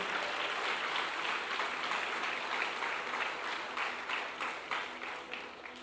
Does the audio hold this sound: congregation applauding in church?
yes